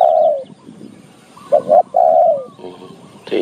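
Spotted dove, a large dove, cooing in a series of mellow, hooting notes, with a short double call in the middle and a final coo, close and loud over faint outdoor background.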